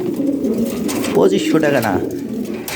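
Lahori Shirazi pigeons kept for sale coo softly in the background while someone talks over them about prices.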